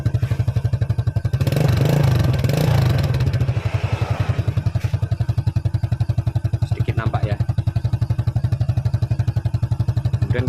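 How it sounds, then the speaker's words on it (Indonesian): Honda Supra motorcycle engine idling after a cylinder block rebuild, a steady rapid putter close by with a brief louder surge early on while someone talks over it. "Kemudian kita dengarkan untuk suara mesin di area blok sebelah kiri"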